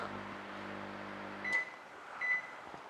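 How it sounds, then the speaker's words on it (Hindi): A GME 720 GF1 PZ microwave oven switched on for ten minutes hums steadily with a low electrical drone, then the hum cuts off and two short beeps follow, fairly close. "तो 10 मिनट्स के लिए माइक्रोवेव ऑन हो गया।"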